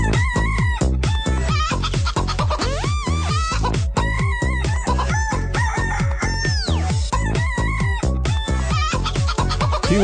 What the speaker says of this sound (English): Andy, you're going to get the chicken song.